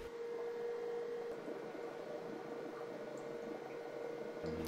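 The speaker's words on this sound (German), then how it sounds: "In den Befeuchtern blubbert es auch schon." Water bubbles steadily in the humidifiers of a Cavallo hydrogen-oxygen inhalation device, a soft continuous gurgle with a constant machine hum beneath it, close and even throughout.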